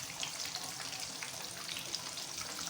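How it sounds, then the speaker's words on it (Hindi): Fish frying in very hot oil, a quiet, even sizzle with a faint bubbling hiss that holds steady for a few seconds without talking. "तो फ़िलहाल इसको एक तरफ से फ्राई होने देते हैं"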